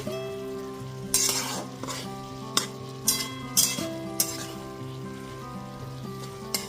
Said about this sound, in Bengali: ওপর থেকে নিচে খুব ভালো মতো নেড়ে নিচ্ছি।